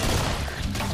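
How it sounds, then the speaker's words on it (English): Shotgun blasts in the zombie shooter Killing Floor, a loud dense burst of gunfire that fills the whole second with booming low-end weight and sharp crackle. "all of a sudden now I got a freaking shotgun"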